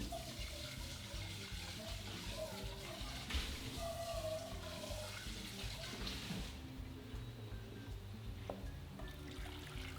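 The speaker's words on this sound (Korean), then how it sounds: "다시 냄비에 붓고" Dashi broth pours steadily back into a pot with a splashing, gurgling rush for several seconds, then tapers off into quieter trickling.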